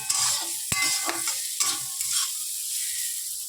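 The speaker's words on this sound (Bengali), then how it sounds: "এই যে আলু ভাজছি" Potatoes fry in a pan at home, a bright continuous sizzle with scraping stirs cutting through, close and loud with no voices.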